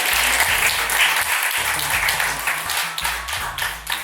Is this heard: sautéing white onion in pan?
no